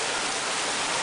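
Heavy rain falls in Santa Cruz as a dense, even hiss of water hitting surfaces, close and continuous with no pauses.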